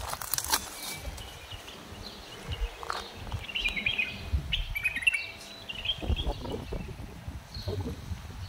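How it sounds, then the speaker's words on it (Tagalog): Small birds chirp in faint, scattered bursts outdoors in cool, breezy weather near garden plants being watered, with soft background rustle and no talk. "Ang sarap ng upo ng mga ibon guys, oh."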